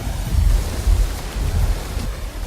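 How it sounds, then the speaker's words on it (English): Heavy tropical wet-season rain in North Queensland pours down as a dense, steady hiss, with low rumbles of thunder rolling underneath. "The rain falls hard."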